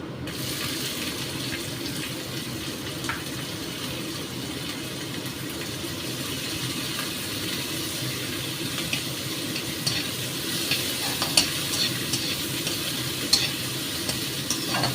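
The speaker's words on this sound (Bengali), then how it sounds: "একটু ভাজা ভাজা করে এবার দেবো পেঁয়াজ," A small onion frying in a pan for a red lentil dish, a steady close sizzle with continuous scraping as it is stirred, no talking.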